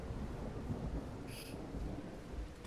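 A lightning sword strikes in the Deadhaus Sonata video game with a rumbling, thunder-like crackle under a dense, steady roar of storm-like noise and a brief bright flash of sound midway.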